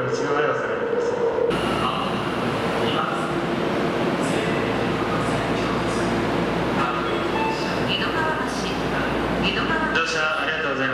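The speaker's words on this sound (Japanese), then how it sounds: "まもなく1番線には新木場行きの列車が到着いたします。" A Tokyo Metro Yurakucho Line train rumbles into Edogawabashi station, a loud continuous underground roar with screeching and rattling as it arrives, while platform announcements play over it.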